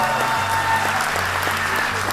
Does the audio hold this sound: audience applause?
yes